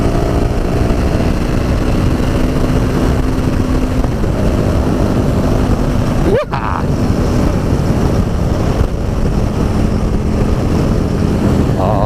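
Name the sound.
KTM 1290 Super Duke R motorcycle being ridden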